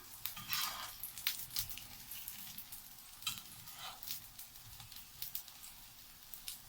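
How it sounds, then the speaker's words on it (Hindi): Potato kebabs fry in hot oil with a faint, continuous crackling sizzle. Brief louder pops and spatters come through now and then, and no voices are heard. "1 से 2 मिनट लगेंगे आपको इसको फ्राई करने में।"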